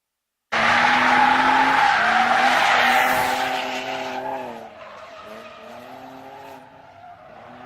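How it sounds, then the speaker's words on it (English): A silver BMW E46 drift car on a qualifying run bursts in loud with a sustained tire squeal and engine wail, then fades somewhat as it slides away into the distance. "Zach in his silver E46"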